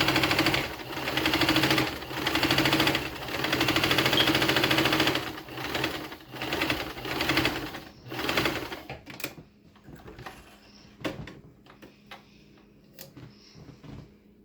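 A sewing machine stitches a pillowcase closed, running in a loud, close, steady whir with short pauses. It then slows to scattered ticks and clicks as it stops.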